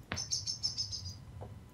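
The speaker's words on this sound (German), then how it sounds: "Geil, Vogel." A bird call in the Minecraft video game, a short series of high, quick chirps lasting about a second, faint over a low background hum, followed by a soft click.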